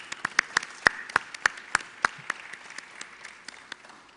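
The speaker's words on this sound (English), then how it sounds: "Let's give them a round of applause." Sparse clapping from a small group at a government briefing, distinct individual claps in an uneven rhythm that thin out over about four seconds, fairly close in a quiet room.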